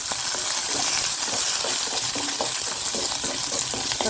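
Horse gram and grated coconut sizzle steadily in an oil pan, a continuous bright frying hiss with small scraping and clinking stir sounds scattered throughout, close up and with no voices.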